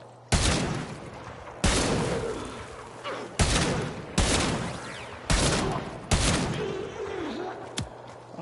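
Heavy single shots from a Warframe weapon, about six sharp loud reports spaced a second or so apart, each trailing off in a ringing decay.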